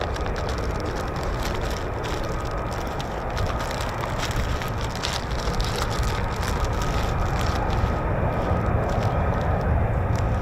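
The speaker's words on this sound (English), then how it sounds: "So we got F-35Bs running." F-35B fighter jets running their engines on the ground at RAF Marham, a dense, continuous roaring rush with crackling texture, loud and steady throughout with no talk.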